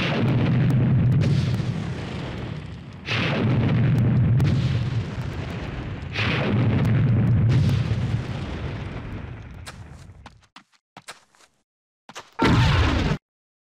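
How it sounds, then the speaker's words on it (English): Bazooka blasts hitting tanks in the PlayStation game Army Men 3D: three long, loud rumbling explosions in succession, then scattered small pops and one last sharp blast, with no talking. "try to blow him up with the bazooka. Blow the tanks up with the bazooka"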